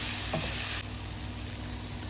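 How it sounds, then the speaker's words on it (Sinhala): Egg roll filling with green chilies frying in a pan, a loud steady hiss that drops to a softer sizzle partway through, with a faint clink early on. "පොඩ්ඩක් මේක බැදෙන්න දෙන්න ඕනේ"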